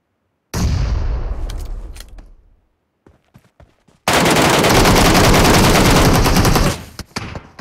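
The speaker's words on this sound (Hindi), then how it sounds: "सारी मैंने MK14 की गोलियां इसके अंदर ठूस डाली है तब भी नहीं मरा" MK14 rifle fire in PUBG: a loud sustained burst of gunfire fading out, a few scattered single shots, then a second long, dense burst of rapid fire followed by trailing shots.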